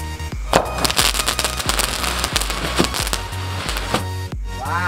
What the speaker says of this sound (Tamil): அடுத்து நம்ம மஞ்சு கிரக்கரை ட்ரை பண்ணி பார்க்கலாம்.